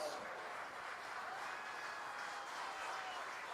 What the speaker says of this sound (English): let's give both teams a round of applause